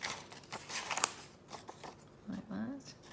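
Scissors snip through a paper junk journal label in a few quick, quiet cuts, close by, with soft crinkling and a brief voice.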